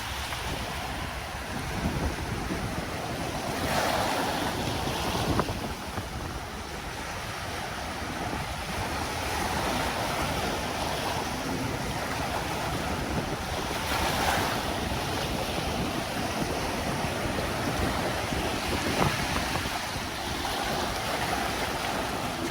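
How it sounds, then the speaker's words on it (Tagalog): Rough surf breaks continuously on a dolomite pebble beach after storms and monsoon rains, a loud, steady wash of waves with periodic heavier crashes, roughened by wind buffeting the microphone and with no voices. "Maalon pa din, kaya medyo maingay yung ating kuha."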